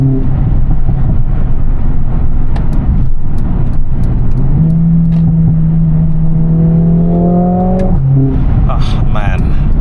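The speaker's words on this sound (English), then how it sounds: "the gearbox itself, it's paired up with an 8-speed dual clutch transmission, and the way it bangs through every gear is just out of this world" A Mercedes-AMG A45 S hot hatch with an 8-speed dual-clutch gearbox drones loudly from inside the cabin, engine pitch holding then climbing and dropping sharply as it snaps through a gear change, with a voice talking over it.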